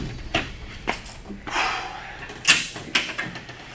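Enclosure door of a black mamba's snake enclosure being pushed shut and locked: several sharp knocks, scrapes and a metallic latch click in close, separated bursts with no talking.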